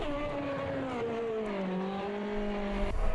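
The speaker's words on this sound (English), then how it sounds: "So that sounds like a V8 to me." A V8 Formula 1 car in a 1995 racing video game at Imola drones with a tonal engine note that slowly falls in pitch as it eases off, heard alone at moderate volume.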